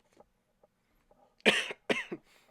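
A single close cough bursts out in two or three harsh, throaty pulses after near silence broken only by faint small noises.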